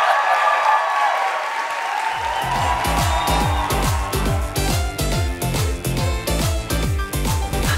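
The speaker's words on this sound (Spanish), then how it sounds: "¡Aplausos!" A studio audience on a Venezuelan morning television show claps in a dense wash, then a pounding rhythmic music beat enters and the applause carries on underneath it, loud and continuous.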